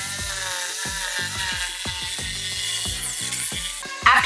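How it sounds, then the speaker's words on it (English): Power tool cutting holes in plywood for a wood pellet cat litter box, a steady, close whining buzz with repeated rhythmic strokes and a sharper burst near the end. "the next thing we had to do was cut the holes"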